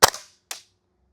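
A Double Eagle Lupus airsoft gas gun fires two sharp, snappy semi-auto shots about half a second apart, each a crisp close crack with a short hiss trailing off, the first louder than the second.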